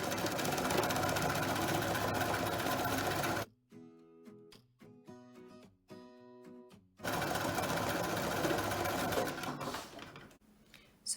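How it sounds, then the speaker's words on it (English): A sewing machine stitches a pressure garment chin strap closed, running in loud, close bursts of rapid whirring, stopping briefly with a few lighter mechanical clicks and taps, then running again. "now you're going to sew from the top of the chin to the bottom."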